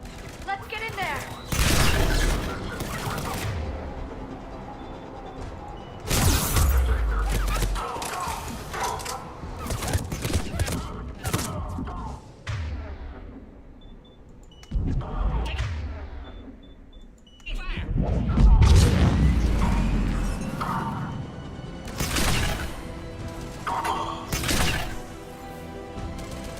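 Gunfire in a firefight at a checkpoint in Mass Effect 3, with loud bursts and clattering impacts coming in several waves across the stretch, mixed with game sound effects.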